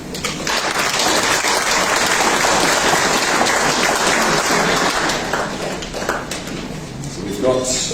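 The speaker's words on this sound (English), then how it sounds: "Round of applause to Brett." Sustained audience applause at a sporting hall of fame induction ceremony honoring a football club inductee, dense and steady clapping that fades slightly near the end, with a voice starting to speak as it tails off.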